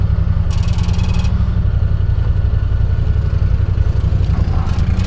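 Group of Honda off-road side-by-sides and ATVs on a winter trail, engines rumbling close and steady as they pass, with a brief high whine partway through.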